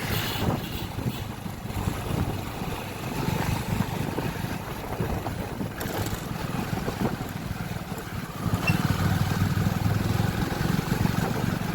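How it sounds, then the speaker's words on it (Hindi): A Hero Splendor motorcycle rides through traffic, its steady low engine drone dominating throughout, overlaid with strong wind rush against the microphone and no voices. "हम निकल गए अभी बाइक लेके."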